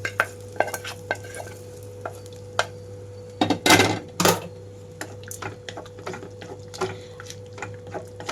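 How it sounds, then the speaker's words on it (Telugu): Hot tempering is poured into a bottle gourd and raw mango tamarind stew, and a brief loud sizzle bursts out. Scattered light clinks and stirring taps come before and after it, with no talking. "ఇప్పుడు ఈ తాలింపు అంతా కూడా ఇందులోకి వేసేస్తున్నాను."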